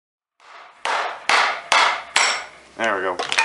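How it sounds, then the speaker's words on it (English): A hammer knocks the A/C clutch pulley bearing out of a 2005 Hyundai Santa Fe with a 2.7L engine, giving five sharp metallic blows at a slow, even pace, each ringing briefly, and then a scraping, rattling sound. "we'll hammer it out"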